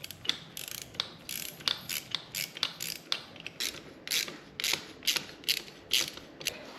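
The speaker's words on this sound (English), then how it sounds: "put the nuts and the rear brake heel back on the master cylinder" Nuts are fitted onto a Ninja 500 rear brake master cylinder, giving a quick run of small metallic ratcheting clicks in bursts, close and quiet, with no talk.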